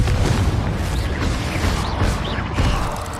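A Confringo blasting spell goes off in Hogwarts Legacy, a loud, sustained rumbling blast with crashing debris filling the whole short stretch, with no voices over it.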